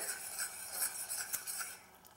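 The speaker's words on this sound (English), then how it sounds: "what I'm doing now is mixing the wet ingredients" Butter and brown sugar being mixed in a bowl for homemade granola: soft, quiet scraping and light clicking strokes, close by, with no talking.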